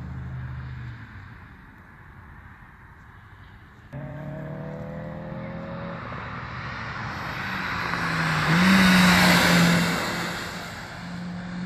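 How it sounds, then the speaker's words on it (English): Mazda race cars taking a corner at Summit Point Raceway's refrigerator bowl, engine roar building from a distant drone to a loud, close pass with a rising whine before fading slightly. "Mazdas don't even slow down in the corner, man."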